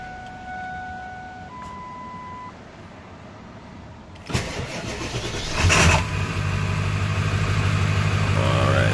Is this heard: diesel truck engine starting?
yes